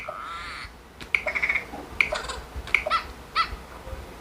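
Synthetic bird chirps and caw-like calls play in short repeated bursts, a Xiaomi Mi 11X phone notification tone with a faint hiss behind it.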